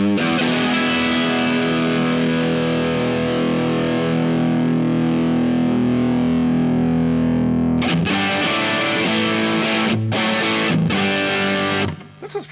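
Electric guitar, a Les Paul, played through a Crazy Tube Circuits Heatseeker distortion pedal with everything turned up: a long sustained saturated chord rings loud, then chopped, stabbing chords follow before a sudden cutoff.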